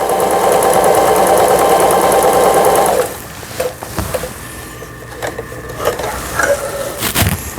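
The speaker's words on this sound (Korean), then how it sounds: "위에 부분, 아래 부분 오버록 바느질 패턴 되는 걸 보실 수가 있어요." A Janome sewing machine runs steadily for about three seconds, its dense rapid stitching whir stitching an overlock edge pattern, then stops, leaving only faint handling clicks and light mechanical rattles.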